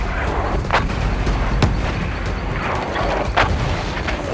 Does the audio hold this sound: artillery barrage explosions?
yes